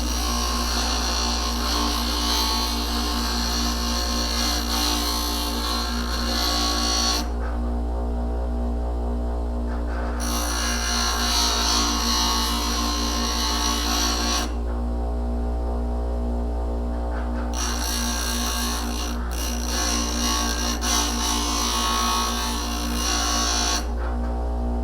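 A blade is sharpened on a Wen bench grinder in three long passes of harsh, hissing grinding separated by short gaps. A strong steady motor hum runs underneath throughout.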